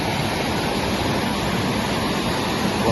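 Ranmudu Ella waterfall at Avissawella in Sri Lanka's Seethawaka area pours in a steady, loud, close roar of rushing water that holds even throughout, with no voices.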